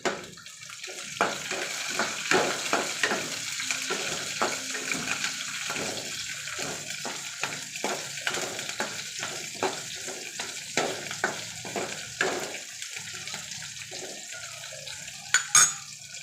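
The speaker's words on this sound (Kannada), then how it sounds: "ಹಸಿಮೆಣಸಿನ್ಕಾಯಿ, ಒಣಮೆಣಸಿನ್ಕಾಯಿ ಚೆನ್ನಾಗಿ ಫ್ರೈ ಮಾಡ್ಕೊಳ್ಳೋಣ." Green and dry chillies fry in a pan for hotel-style rasam: a steady, close sizzle broken by repeated metallic clinks and scrapes of a spoon against the pan.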